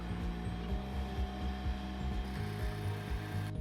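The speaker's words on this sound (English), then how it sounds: "I used carriage bolts so that they can be loosened and tightened with one hand." A ratchet tightens carriage bolts on wooden workbench blocks, giving a soft, rapid clicking in even strokes over a low mechanical hum. The sound is close and fairly quiet, with no talking.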